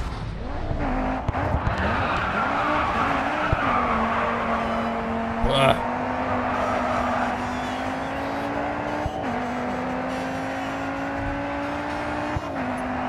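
A race car in Grid 2 brakes hard and skids with a long tire squeal over a droning engine that shifts pitch, and someone talks over the game sound.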